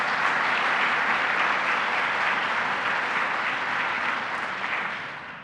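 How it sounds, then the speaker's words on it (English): An audience at a governor's child care announcement in Central New York applauds, steady and full clapping from many hands that holds for several seconds before slowly thinning out. "Let's give her a round of applause as well."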